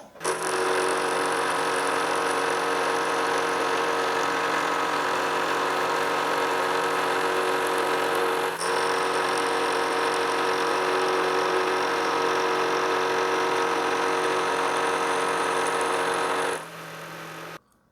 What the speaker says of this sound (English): I waited my whole life for a mill, so that's what we're going to use